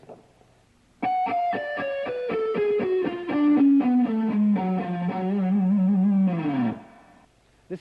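Fast descending shred lick on distorted electric guitar, the closing section of a shred-style riff, with rapid picked notes stepping downward before a final held note that stops abruptly, loud with no talking.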